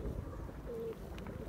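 A pigeon coos softly on a rooftop loft, a low gentle coo amid faint background noise, brief and close.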